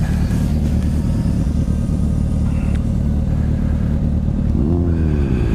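A 2008 Suzuki Hayabusa, a heavy motorcycle, riding on an open road: loud, continuous engine rumble and wind roar fill the whole stretch, with a rising engine note near the end.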